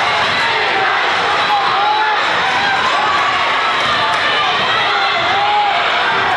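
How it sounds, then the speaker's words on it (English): A Uniontown home crowd roars and cheers at a basketball game, a dense, steady wall of voices with scattered whoops, loud and continuous throughout without a break. "Uniontown crowd alive across the way"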